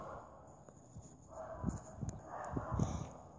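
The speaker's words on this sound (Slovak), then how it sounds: "Asi počujete vo videu psa." A dog barks a few times in quick succession, somewhat distant and soft, over a low background hum.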